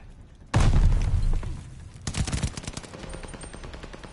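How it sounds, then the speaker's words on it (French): In the video game Call of Duty Vanguard, a grenade goes off with a loud blast followed by a rumbling tail, then a burst of rapid gunfire and a rattle of scattered shots that fade into fainter echoes. "Lance une grenade."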